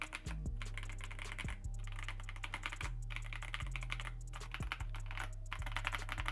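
Steady rapid typing on a KZZI Z98 mechanical keyboard held up off the desk, crisp close clacks in an even rhythm with occasional heavier thocks, no voices.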